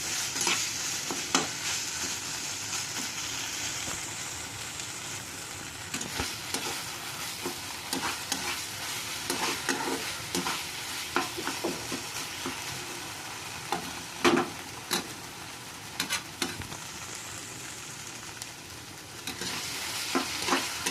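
Spice masala sautéed and stirred in a karahi while cooking aloo phulkopir dum: continuous dry sizzling with repeated scraping strokes of a spoon against the pan, close up, with no talking.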